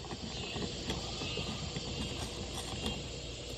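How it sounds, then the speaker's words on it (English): A Stihl brush cutter's trimmer head being forced loose by hand, giving a steady close run of dry mechanical creaks and ratcheting clicks that scrape on for a few seconds with nothing else over them. "So just kind of forcibly screw this head off."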